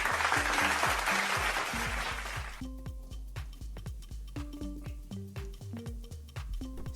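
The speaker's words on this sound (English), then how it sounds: "Everybody put your hands together and give them a round of applause." Applause at a business leadership forum, a dense burst of clapping for about two and a half seconds that thins to scattered claps, with a sustained musical tone playing underneath throughout.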